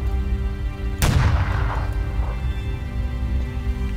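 A gunshot goes off in the sci-fi shooter game E.Y.E. Divine Cybermancy, a single sharp booming blast landing a headshot, followed by a decaying echo over a low steady background hum.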